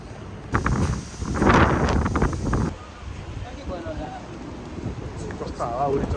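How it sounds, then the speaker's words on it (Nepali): Strong wind blows outdoors at Nagoya Castle, Japan. Loud gusts buffet the microphone for a couple of seconds, then a rougher rumbling rush carries on while people talk nearby. "कस्तो हावाहुरी चल्यो है"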